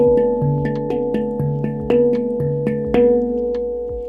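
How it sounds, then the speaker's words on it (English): A handpan played solo: sustained, ringing metallic tones struck one after another at a gentle, steady pace, each note blooming and lingering over the others. "A handpan, but it's a space drum."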